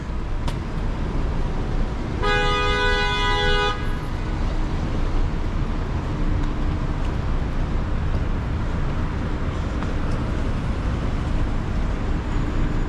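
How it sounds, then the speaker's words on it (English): A car horn blares in a single sustained honk over a continuous roar of heavy traffic in a jam, with the rumble of engines and road noise filling the scene. "Look at the traffic."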